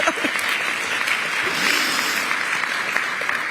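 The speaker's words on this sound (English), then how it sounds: "Okay, you can applaud at that" An audience at a Brooklyn Museum announcement breaks into steady, dense applause, many hands clapping together at an even level from start to finish.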